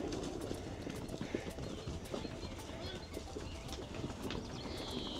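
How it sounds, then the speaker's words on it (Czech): Hooves of horses running past on rural ground in Georgia make a busy clip-clop under steady outdoor ambience, with birds cooing and chirping nearby throughout. "Teď kolem mě běžejí koně, tak vám je natočím,"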